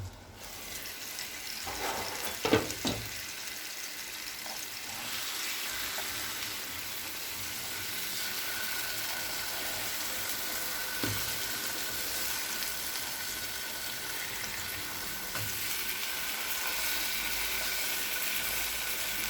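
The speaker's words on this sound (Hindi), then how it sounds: "अब इसे ऊपर से कवर करके पका लेंगे तकरीबन 8 मिनट के लिए।" Chicken steak cooking under a lid in a pan, a soft, steady sizzle and gentle bubbling heard close and muffled, with a couple of faint clinks early on.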